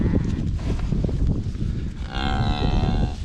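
Hereford cattle mooing on a farm, a series of loud, drawn-out bovine calls close by over a rough, noisy background, with one long sustained moo in the second half.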